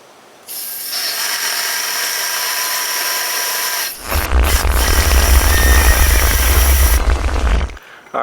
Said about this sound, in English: I'm gonna just blow it out with the compressed air.